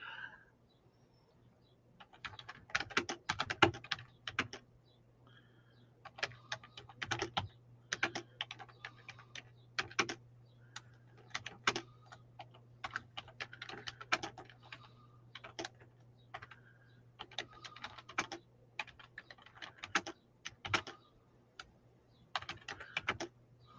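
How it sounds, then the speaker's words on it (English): Typing on a computer keyboard, irregular bursts of quick close clicks and key taps with short pauses between them, over a faint steady low hum. "I cannot type and talk at the same time"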